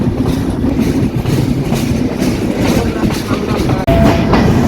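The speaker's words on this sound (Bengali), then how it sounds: "ঢাকা থেকে ফিরে আসা সাতশো ছাব্বিশ সুন্দরবন এক্সপ্রেস" The Sundarban Express passenger train runs steadily on rails near Darshana, Chuadanga, with a loud continuous rumble and rhythmic clickety-clack of wheels heard from on board, plus a brief high squeal near the end.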